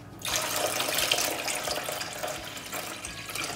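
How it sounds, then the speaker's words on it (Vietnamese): Water running steadily into a cooking pot, about a liter poured in one continuous, fairly close stream with no talking. "Tiếp theo mình cho vào đây 1 lít nước"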